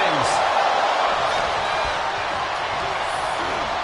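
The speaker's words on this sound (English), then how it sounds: "Listen to this crowd, driving these competitors to leave everything out in the ring." Dense arena crowd noise in the WWE 2K25 wrestling video game, a loud continuous roar of cheering that fills the whole stretch, with a few faint whoops rising above it.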